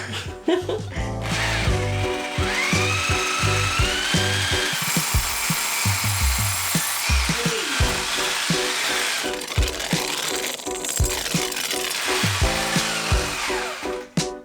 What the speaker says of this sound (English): We drilled through to get a reference point on the outside of where this opening is going to be